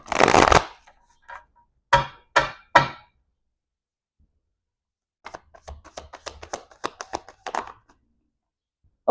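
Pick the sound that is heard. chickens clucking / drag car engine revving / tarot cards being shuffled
tarot cards being shuffled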